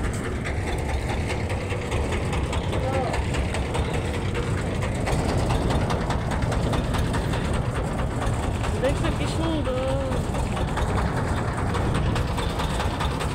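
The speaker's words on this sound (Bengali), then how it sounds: "এই তো ট্রলারে উঠে গেলাম" A trawler boat engine idles at a ferry ghat with a steady, low, rumbling drone throughout, and faint voices come and go beneath it.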